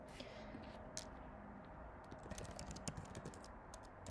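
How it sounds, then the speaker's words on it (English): A computer keyboard is typed on loudly during a lecture, rapid irregular clacking keystrokes up close that cluster into quick bursts, with no talking over them. "Sorry for my loud typing."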